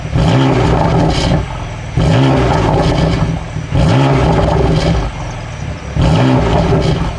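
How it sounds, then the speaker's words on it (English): A BMW M4 engine revs repeatedly, each rise of the factory exhaust roar followed by popping, crackling burbles as it falls back, four cycles, loud and close. "I'll show you guys a little bit of the burbles that it comes with from factory"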